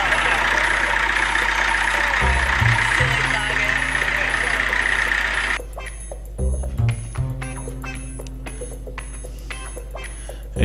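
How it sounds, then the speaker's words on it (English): A small 1953 diesel locomotive at Coal Creek runs with a steady low engine throb, joined by loud, repeated alarm-like beeps and a brief gap where the drone drops away before resuming. "it's a beautiful little diesel engine"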